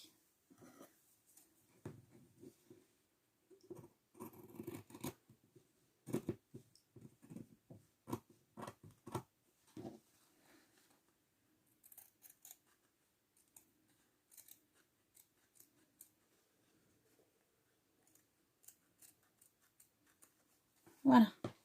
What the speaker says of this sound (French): Donc j'ai plus qu'à couper.